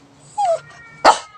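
A small caged dog whimpers for food, giving one high, thin whine followed a moment later by a sharper yelp, both close by and alone.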